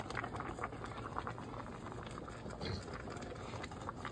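Ham and collard greens boiling in a pot, a steady bubbling and gurgling that runs evenly throughout, close and moderately quiet with no talk over it.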